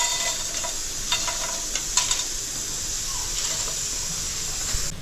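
Whole spices (cumin, star anise, green cardamom, cinnamon sticks, black pepper and cloves) dry roasting in a pan, with a soft steady hiss and scattered light scraping and stirring clicks close by.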